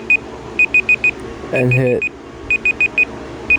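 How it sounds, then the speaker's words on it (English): A OnePlus Android phone sounds its alarm and timer alert: short, bright electronic beeps in quick groups of four or five, repeating after a brief pause, with a spoken voice breaking in once between the groups. "That was the alarm and timer alert."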